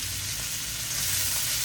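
Beef, peppers and onion stir-fry in an oiled pan with a loud, steady, close sizzle that holds throughout.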